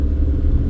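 Low, steady engine rumble from a 2014 Chevy Spark converted into a monster car, driven slowly across a field, a close, continuous drone with slight clatter and no talk.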